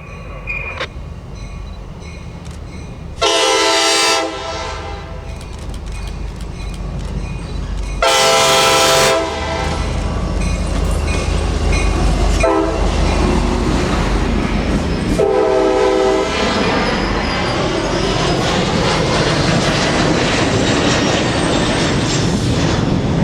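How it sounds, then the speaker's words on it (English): A southbound TriRail train led by a Jeep locomotive sounds several loud horn blasts and rumbles past at close range, with wheel noise and clattering railcars building as it passes. "we get another southbound TriRail with a Jeep leading"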